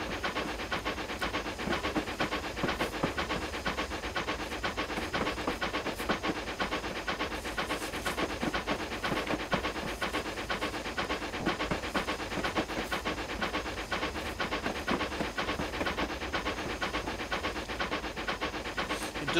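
A Bulleid Q1 steam locomotive runs on the Somerset and Dorset Joint Railway in Train Simulator. Steady, rapid chuffing exhaust beats and hiss continue evenly throughout at moderate loudness.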